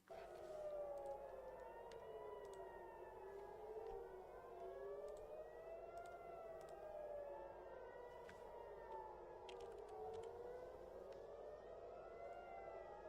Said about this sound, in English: Hearing the sirens, we're not seeing the interceptions.